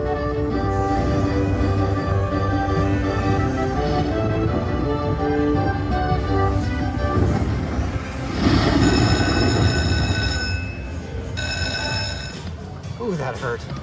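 Electronic chiming and ringing tones from a slot machine, layered with a synthesized train rumble and whistle-like bursts midway, loud and continuous.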